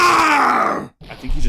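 A long strained groaning scream from a character in the courtroom video game Phoenix Wright: Ace Attorney, loud and sustained, then a sudden cutoff and a short rumbling burst of game sound.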